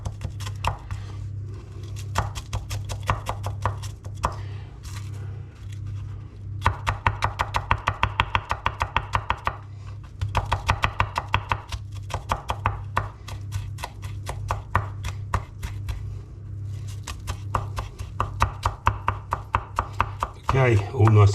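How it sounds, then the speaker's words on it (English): Onions being finely diced on a chopping board with a knife, steady rapid chopping strokes in bursts over a low electrical hum, close and fairly loud, with no talking. "all finely diced up and chopped up"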